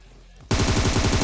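Rapid automatic gunfire from a DP-28 in PUBG Mobile on Erangel bursts in suddenly after a quiet moment, a loud, close, evenly spaced burst of shots.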